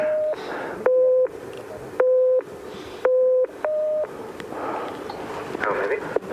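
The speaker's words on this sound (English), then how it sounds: "David, you're going to try and count the low tones and ignore the high tones" Electronic hearing-test tones at 6,500 metres on an Everest expedition: a series of short, evenly spaced steady beeps at two pitches, with low background noise between them.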